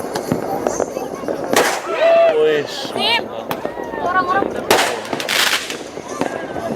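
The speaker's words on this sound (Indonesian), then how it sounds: "jadi ngelihat kembang api itu terlalu kecil ya dari sini" Fireworks burst in the distance over Samarinda on New Year's Eve 2026, heard from the high Steling hilltop as scattered cracks and pops with whistling streaks, while people nearby talk and exclaim over them.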